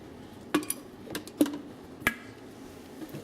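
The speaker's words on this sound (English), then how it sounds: "And put the lid on." Several clinks of a lid on a cooking pot while making spicy pepper and tomato soup: a few sharp metallic taps and rattles, close and fairly quiet, with no talk.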